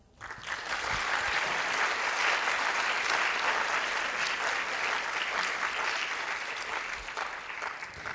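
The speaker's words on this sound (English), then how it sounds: "You both need a huge round of applause." Sustained audience applause fills the hall at a Bharatanatyam arangetram recital, a dense, even wash of many hands clapping that swells quickly after a brief quiet start and holds steady throughout.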